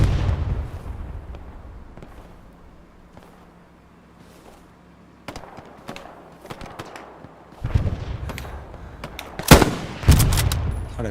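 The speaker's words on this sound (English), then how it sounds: "that's a fucking Garand, ain't it?" M1 Garand rifle shots in the World War II shooter Hell Let Loose: a faint rumbling stretch, then sharp cracks from about five seconds on, growing louder and denser toward the end with several close, loud reports.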